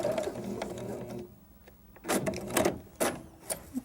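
A sewing machine stitching small button-on baby pants in a circle: a quiet mechanical whirring hum, a short pause, then several brief stitching bursts with clicks, fairly close and soft, with no talking.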